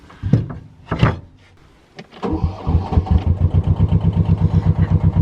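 A narrowboat diesel engine starts with a couple of loud knocks, then settles into a steady, rhythmic chugging idle, heard up close with no one speaking.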